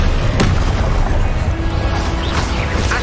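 Confringo blasting-spell explosions in Hogwarts Legacy, a dense continuous rumble of booms and crackling blasts, loud and close, layered with game effects and no speech.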